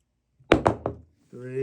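Hammer blows strike an MDF kitchen cabinet door, three sharp knocks in quick succession at close range, followed by a person starting to talk.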